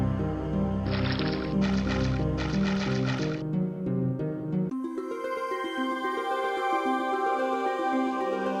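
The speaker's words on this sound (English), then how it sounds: "You kneel down and fill the bucket with the cool water." In the VGA King's Quest 1 video game, a bucket is filled with water: bursts of watery bubbling and splashing come in quick succession, followed by a short tune, with no voices.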